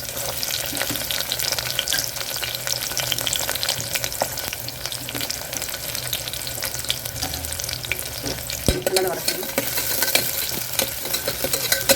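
Onion and garlic sautéing in oil in a pan for tomato rice, an unbroken close sizzle with intermittent spatula stirring and scraping, briefly louder near the end.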